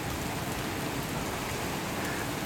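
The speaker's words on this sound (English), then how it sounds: "The rain on the street looks really cool." Steady rain falls on a street as a storm rolls in, a dense, even wash of hiss and patter at moderate distance, continuous and unbroken with no voices.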